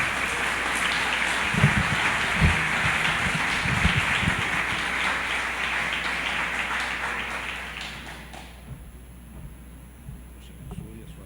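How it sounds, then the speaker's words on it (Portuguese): Audience applause at an evening theological-week gathering welcoming a pastor to the stage, a dense sustained wash of clapping that fades out toward the end, leaving quieter room noise. "quero que você possa saudá-lo com uma salva de palmas nesse instante"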